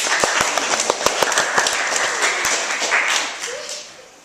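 A small audience applauds right after a group presentation ends; many hands clap in a steady, fairly close burst that swells and then thins out over about four seconds.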